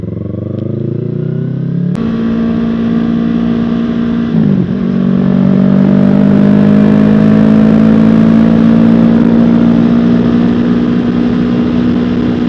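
A Yamaha R3 motorcycle engine idles, then revs up sharply and pulls away. A loud, close, rising whine holds strong as the bike rides off.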